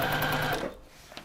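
A sewing machine stitches the seams of a fabric tissue box cover, running in a steady close whir for about half a second before stopping, followed by faint handling sounds.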